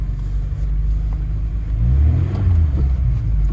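Engine of a VAZ 2106 accelerating and shifting into second gear on worn summer tyres, a steady low rumble that rises in pitch and swells louder partway through, heard from inside the car.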